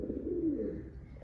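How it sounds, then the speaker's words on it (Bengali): A pair of domestic pigeons gives a single low, soft, rolling coo that lasts about a second, close by and alone. "এই যে গররা এক জোড়া কবুতর"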